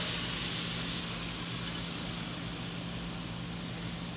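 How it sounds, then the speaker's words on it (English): Pork chops sizzling on a hot grill at 400 degrees give a steady, dense hiss with a low hum underneath, continuous and fairly loud with no talking. "So we're going to put our pork on the grill."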